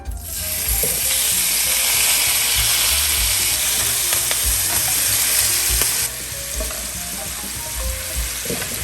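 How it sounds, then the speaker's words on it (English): Garlic frying in rendered pork fat for Filipino pancit bihon, a loud crackling sizzle with repeated spatula stirs and clinks, easing to a softer sizzle near the end. "We're gonna take that pork fat and add some garlic and fry that."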